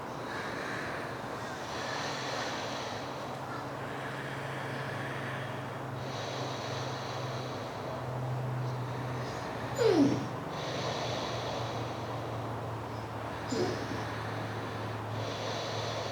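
Deep, audible breathing during a vinyasa flow yoga practice, with slow, steady breaths that drone softly and continuously over a low room rumble and a couple of sharper breath accents near the end.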